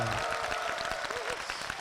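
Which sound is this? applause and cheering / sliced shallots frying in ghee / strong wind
applause and cheering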